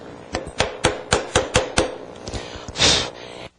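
A bevel edge chisel wedged between a backing board and a frame is tapped to loosen it, giving seven sharp, evenly spaced knocks up close, then a few softer taps and a brief scrape.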